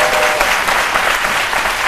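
Steady, dense applause from a studio audience on a French midday television talk show, filling the whole stretch at an even, loud level with no voices over it.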